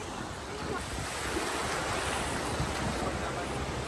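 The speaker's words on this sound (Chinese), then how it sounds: "哇，浪花好白啊！" Ocean waves wash onto the beach at Phi Phi Island in Krabi with a steady, dense roar, and wind buffets the microphone throughout.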